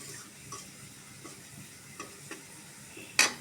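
Onions with turmeric frying in a pan, a low sizzle with soft stirring scrapes and occasional clicks of a utensil, ending in a sharper knock.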